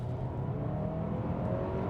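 A 2023 Kia Sorento in sport mode accelerates from a rolling start, its engine giving a steady, close hum and drone that holds throughout with no talking over it.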